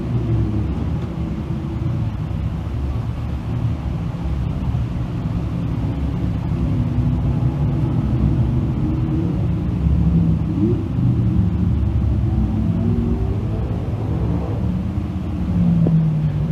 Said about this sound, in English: First of 3 heats on track here for Bob Johnson Auto Group Dirt Car Sportsman.